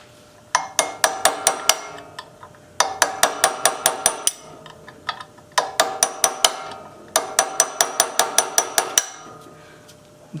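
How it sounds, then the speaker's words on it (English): A hammer drives a chisel into a hardened bearing during a Sears generator repair, ringing out in four bursts of rapid, sharp metallic strikes with short pauses between them, close and loud. "I'm going to chisel a little more."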